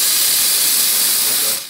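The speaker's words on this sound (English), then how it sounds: "You could fill this whole room with steam." A powerful espresso machine steam wand blasting steam, a loud continuous close hiss that holds steady and tapers off at the end.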